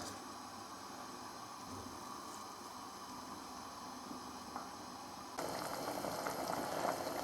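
Cabbage roll sauce simmering in a pot, a steady close hiss of bubbling liquid that grows louder and brighter partway through, with no voices.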